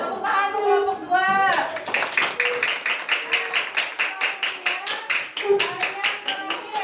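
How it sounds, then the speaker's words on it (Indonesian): A classroom group claps for group 2 in a quick, rhythmic, fairly loud round that continues to the end, after a voice speaks briefly at the start. "Tepuk tangan untuk kelompok 2"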